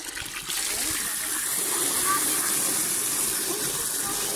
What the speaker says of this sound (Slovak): Hadica strieka.